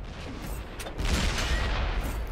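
Tank cannon fire in the World of Tanks console game: a couple of loud, broadband gun blasts land close together around the middle, over a steady rumble of engine and battle noise, with no talking.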